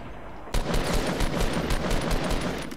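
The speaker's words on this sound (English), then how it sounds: "He's getting shot at." Gunfire in a Fortnite-style battle royale match, with rapid bursts of shots starting abruptly and continuing steadily, loud and close, with no talk over them.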